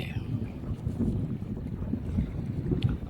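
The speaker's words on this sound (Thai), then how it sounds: "เช้าขึ้นมาก็มีลม" Wind blows steadily across a lake around a fishing boat working a surround net, a constant low rumbling buffet of gusts against the microphone with no clear voices.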